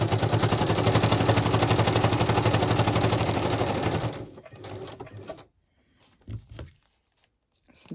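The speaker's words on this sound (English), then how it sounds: "There's not too many pages, the sewing machine won't complain about it." A sewing machine stitching down the centre of a small paper mini album, a loud rapid steady needle rattle for about four seconds, then stopping, followed by faint handling noises.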